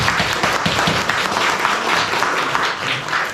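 A church congregation at an Easter service applauds together, a steady wash of many hands clapping at close range that continues for the whole stretch without pause.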